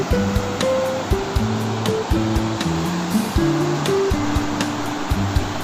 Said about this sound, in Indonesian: Terus ombaknya juga cukup besar banget ya.